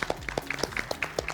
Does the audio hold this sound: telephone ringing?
no